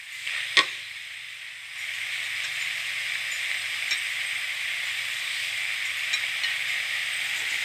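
Blanched rice noodles stir-fried with plenty of vegetables in a pan, giving a steady, close sizzle throughout, with one sharp utensil clack near the start.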